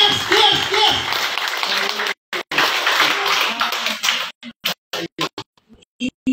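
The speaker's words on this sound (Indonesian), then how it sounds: "tepuk tangan yang keras, yang keras" An audience claps hard and fast in a loud burst for about four seconds, then the applause breaks up into scattered single claps and short gaps; talking can be heard at the start.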